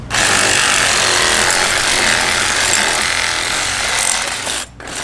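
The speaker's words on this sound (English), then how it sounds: "With the sawzall." Reciprocating saw cutting through metal on a car, a loud, steady buzzing rasp that runs almost without a break for about five seconds, dropping out briefly near the end before it resumes.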